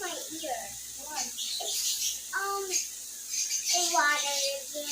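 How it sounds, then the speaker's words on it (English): Bird chirps and high tweets come in short bursts, mixed with talking voices, fairly close and moderately loud. "Oh my god, the bird is so noisy again."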